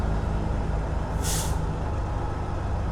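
A semi truck maneuvering at a loading dock lets out one short, sharp hiss of air brake release over the steady low rumble of its idling diesel engine.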